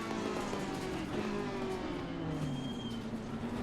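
A GT3 race car engine in the racing video game Assetto Corsa Competizione roars steadily at high revs, its pitch sliding gradually downward as other cars whine nearby, with no talking.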